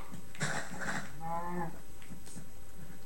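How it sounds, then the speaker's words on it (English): A cow in the video game Minecraft moos loudly twice in close succession, drawn-out and near, followed by a few softer game sounds with no talking. "This cow has gone absolutely insane."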